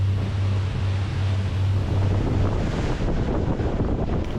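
A Ferretti Yachts Infynito 80 motor yacht cruises at nearly 10 knots, its engines giving a steady low hum under constant wind and water rush, all the way through with no talk.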